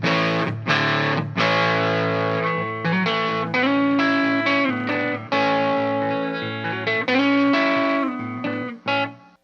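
Electric guitar in drop D through a guitar cabinet with a dark, tubby tone, playing a riff of heavy distorted chords and single notes, loud and continuous, with no speech.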